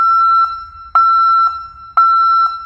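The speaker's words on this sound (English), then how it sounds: "Test this backup alarm." A vehicle backup alarm, powered by a handheld circuit tester, emits loud, close, piercing electronic beeps: three evenly spaced tones about a second apart, each followed by a short clicking tail, with nothing else heard.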